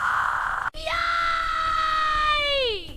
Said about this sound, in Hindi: वो गुस्से में थी, चीख रही थी।